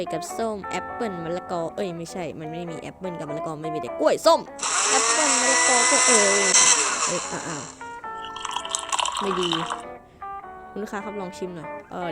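A blender whirs in the cooking game The Cook while making an orange and banana smoothie, a steady broadband buzz of about three seconds and a shorter second burst, with someone talking over and between them.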